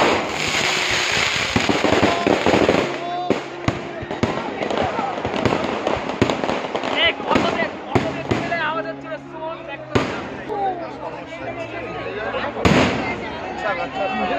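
Fireworks and firecrackers go off during a Bengali New Year celebration: loud bangs, sharp pops and crackling bursts come in quick irregular volleys, some close and some farther off, with people talking in between.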